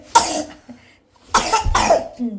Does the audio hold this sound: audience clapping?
no